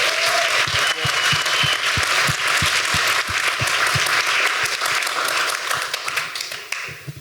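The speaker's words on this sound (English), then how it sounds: "Let's give them a round of applause." Loud, sustained applause from an audience for a panel of men on stage at a voice-work event, dense clapping filling the whole stretch with a few sharper claps standing out.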